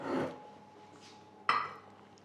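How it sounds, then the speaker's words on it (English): Ceramic ramekins set down into baking dishes for crème caramel, making two separate clinks about a second apart, each a sharp knock of ceramic that quickly fades. No voices. "So I will place these in these dishes."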